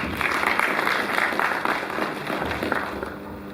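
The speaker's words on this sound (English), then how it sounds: "Please a round of applause." Applause from the audience at a college congregation ceremony, a steady wash of many hands clapping that carries on at an even level for several seconds, with no voices rising above it.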